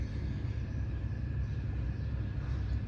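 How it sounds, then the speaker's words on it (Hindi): A Mehran car drives in PUBG, a low steady engine rumble that holds evenly throughout, moderately loud with no other sounds. "तो मैंने अपनी मेहरान गाड़ी उठाई"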